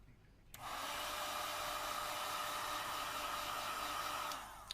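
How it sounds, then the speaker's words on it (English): A heat gun blows steadily to soften battery adhesive inside a Sony Xperia Z3 phone, switching on after a short pause and running as a loud, even whoosh for about four seconds before cutting off. "We'll use a heat gun again here because of the battery adhesive."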